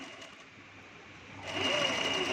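A sewing machine stitches a dhoti salwar, humming at first and then running faster and louder in a steady close mechanical whir, with no talk.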